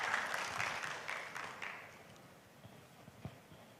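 An audience at an academic conference on green shipping and sustainable energy applauds. The clapping is fairly faint and thins out and fades over a few seconds, leaving scattered soft taps.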